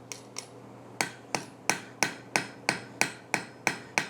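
A forge weld on a blacksmith-made boot scrape is struck with a hammer in a steady series of about ten sharp metallic blows, close and loud, each ringing briefly before the next, with no talking.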